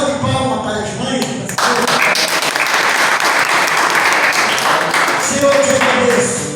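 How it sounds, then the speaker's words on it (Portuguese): A church congregation bursts into applause for mothers on Mother's Day, loud, dense clapping that swells suddenly after a quieter opening and carries on steadily, with some voices mixed in. "Uma salva de palmas para as mães."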